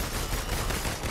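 Dense, rapid gunfire from the video game Marvel's Avengers forms a continuous broadband burst of shots filling the moment, loud and close, with no speech over it.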